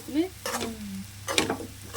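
Bitter gourd sizzling and frying in a pan, with short bursts of stirring scrapes and crackle, close up and moderately loud.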